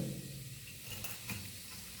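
Peanuts frying in oil over a low flame for pulao: a soft, steady sizzle with faint stirring scrapes, quiet and close, with no talking.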